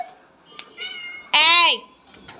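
A female cat in heat meows angrily, with a loud, drawn-out yowl in the middle and shorter meows around it. The cries are close and sharp, and a person's voice is heard nearby.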